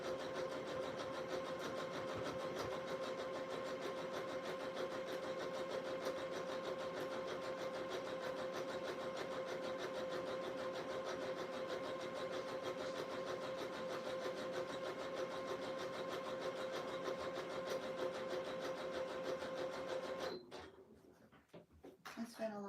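A Janome sewing machine stitches a fleece robe with a steady, continuous motor hum and fine mechanical whir, running evenly for about twenty seconds before stopping abruptly near the end.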